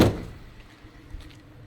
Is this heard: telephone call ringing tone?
no